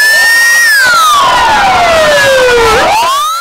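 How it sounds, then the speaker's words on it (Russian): A convoy of ambulances sweeps past with sirens blaring very loud and close, one long wail sliding steadily down in pitch and then rising again, with several overlapping siren tones layered on top. "Кареты скорой помощи пронеслись по городским улицам."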